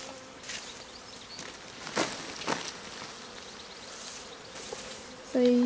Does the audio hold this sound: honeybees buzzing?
yes